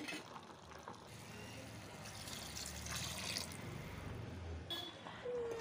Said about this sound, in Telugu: మనం సరిపడా అంత వాటర్ని అయితే ఇందులోకి యాడ్ చేసుకోవాలి